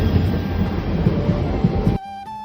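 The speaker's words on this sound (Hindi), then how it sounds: "थोड़ी देर बाद ट्रेन आई।" Train pulling into a railway station, a loud continuous rumble and rolling clatter of wheels that cuts off abruptly near the end, leaving a quieter hum with tonal whine.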